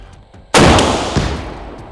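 A single loud, sharp blast of a grenade launcher firing during marine infantry training erupts from near silence, then a rumbling roar that slowly decays.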